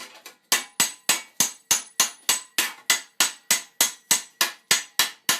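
Heated spring steel being hammered on an anvil while forging late 14th-century greaves: a steady run of about fifteen sharp, ringing metallic blows at a brisk, even pace, close and loud, each strike decaying quickly before the next.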